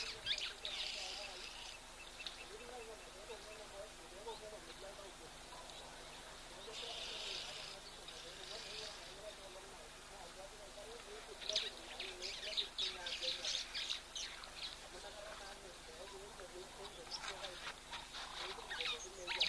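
Birds call in scattered bursts of high chirps and twitters at a waterhole, with clusters early, mid-way and toward the end over a low steady background hum, moderately distant and not especially loud.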